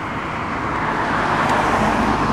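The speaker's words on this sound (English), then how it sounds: "There's one more car coming" A car passes on Reynolds Road in Morrow, Georgia, by a trail crosswalk, giving a steady broadband roadway rush that swells slightly toward the middle and stays fairly loud throughout with no voices.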